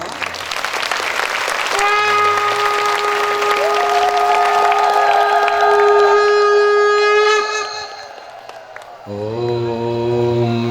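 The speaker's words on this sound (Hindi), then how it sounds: "जोर से तालियां।" An audience applauds loudly and steadily at a Hindi spiritual discourse as a sustained chanted or sung tone rings over it, then the clapping fades before another voice begins.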